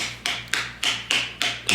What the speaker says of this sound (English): Just going to use my plastic hammer here